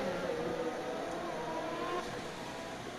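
Ferrari Formula 1 car in an F1 racing video game at Monaco, near Piscine, giving a steady high-pitched engine drone that holds level, then eases slightly after about two seconds, with no talk.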